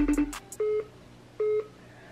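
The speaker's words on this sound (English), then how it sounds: "I am about to call him and see where he at." A phone dials out to place a call: a quick cluster of beeps, then two separate sustained keypad tones, clear and close with no talking.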